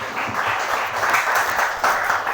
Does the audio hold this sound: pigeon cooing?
no